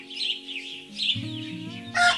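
A chicken clucks softly a few times, with musical tones playing alongside and a brighter chirp at the end.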